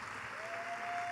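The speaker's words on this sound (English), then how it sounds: "if you would give them a round of applause" Audience applause fills the whole moment at a fashion show, a steady dense clapping from a crowd, fairly loud and continuous with no talk over it.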